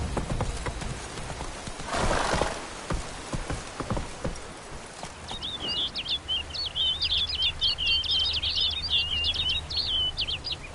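Horse hooves clip-clop close by in The Witcher 3 with a brief louder burst early on, then settle into a steady gait while birds chirp in the background.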